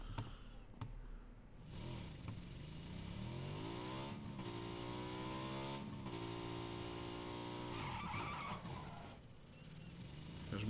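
Motorcycle in the PUBG video game, its engine revving and rising in pitch as it accelerates, with tyre skidding noises, running continuously at close range.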